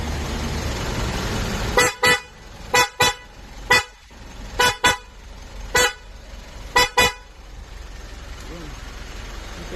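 Car horn on a Mitsubishi Montero with newly added fog lights, sounding in nine short honks, mostly in quick pairs with gaps between, loud and close over a low steady background hum.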